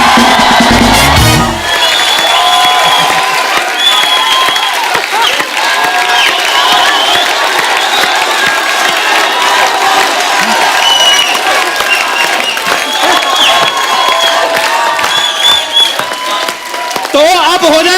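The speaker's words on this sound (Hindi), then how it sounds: "एक बार जोरदार तालियां हो जाए" Studio audience on a Hindi comedy talk show applauding and cheering as Bollywood star Salman Khan comes on, a dense, continuous wash of clapping and shouts held steady throughout, with a brief burst of louder noise near the start.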